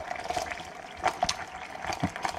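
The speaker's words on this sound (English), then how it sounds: "This is a boiling water tap in my kitchen." Water runs and splashes from a kitchen boiling-water tap into a container, with gurgling bursts and a faint hiss over a steady background.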